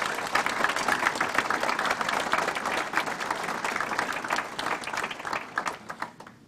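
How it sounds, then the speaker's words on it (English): A hall audience at a higher education graduation ceremony claps for the graduating students, with dense, steady applause that carries on for several seconds before thinning out toward the end. "Can we have a round of applause for the students, please?"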